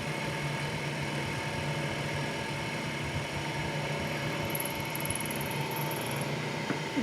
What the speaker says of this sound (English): I'm climb milling now just to make it smooth.